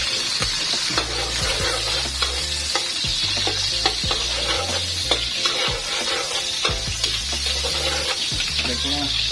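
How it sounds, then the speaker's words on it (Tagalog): Ingredients sauté in hot cooking oil for balbacua with beef, a continuous sizzle and frying hiss with scraping stirs of a utensil, under a constant low hum with occasional talking. "Ngayon, gigisahin ko na ito ng mantika para ilalagay ko na yung mga ingredients."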